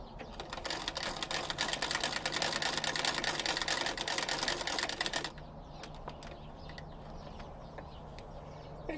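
An 1871 treadle sewing machine stitching a seam, a fast, loud mechanical rattle of needle and mechanism for about five seconds, then stopping, leaving quieter clicks and room noise.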